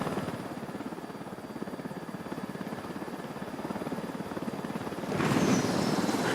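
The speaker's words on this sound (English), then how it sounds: "Stealing supply choppers to help cartel crushing rebels." A supply helicopter in the video game Ghost Recon Wildlands drones with steady rotor chop throughout, growing louder and closer near the end, with no one talking.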